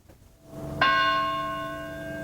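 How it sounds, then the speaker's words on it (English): A single church bell on the St. John's College campus strikes loudly once, its rich ringing tone with layered overtones hanging and slowly decaying. "The bells on the campus of St. John's College tolled 13 times"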